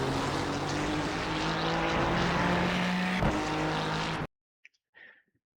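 A Ferrari GT3 race car's engine screams at high revs around Interlagos in the sim racing game iRacing, loud and continuous with a gear-change dip, then cuts to near silence with faint clicks.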